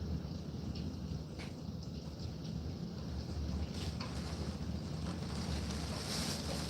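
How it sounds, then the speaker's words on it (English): Steady hurricane wind roars outdoors with a constant low rush and occasional gusts buffeting the microphone, no voices present. "you can hear like a steady wind out there"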